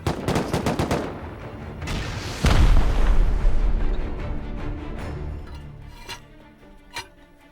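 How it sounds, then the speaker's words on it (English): Rocket explosions on batteries in the Rust video game: a volley of sharp blasts and booms, one heavy deep explosion in the middle with rumbling debris, then scattered loud cracks trailing off. "I'm gonna rocket all these batteries as well."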